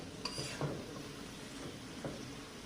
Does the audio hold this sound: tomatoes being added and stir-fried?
yes